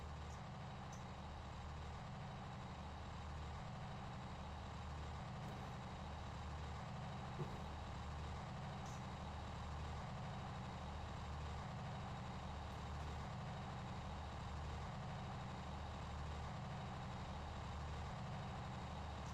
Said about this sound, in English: Turntable in action.